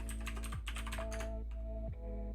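Rapid keystrokes on a computer keyboard while coding web layout, a steady run of light clicks at close range with no talking.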